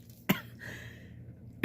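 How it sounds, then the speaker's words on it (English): A person coughs or sneezes indoors: two sharp, close bursts about a second and a half apart, with faint breathy sound between them. "between a cough and a sneeze"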